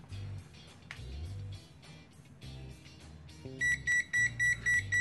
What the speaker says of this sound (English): Just over a thousand volts, and we are getting that high voltage alarm.